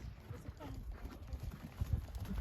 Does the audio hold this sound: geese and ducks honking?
no